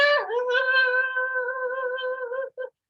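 A child's high, wavering voice imitates a screeching cat, one sustained harmonic wail that dips at the start, holds steady for about two and a half seconds, then ends with a short final yelp.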